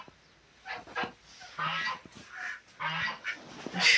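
Goose honking in a farmyard poultry house among ducks and chickens, several short nasal honks rising and falling over about four seconds, fairly close and alone with no talk.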